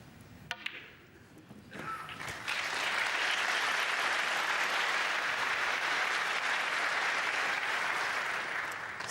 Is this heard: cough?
no